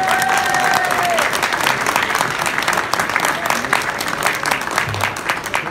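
Dense, sustained applause fills a songwriters' awards night hall, continuous clapping from a large audience with a brief whoop near the start.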